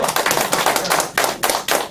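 Audience at a political lecture claps in dense, rhythmic bursts, loud and close, with a few brief dips between waves of applause and no talking.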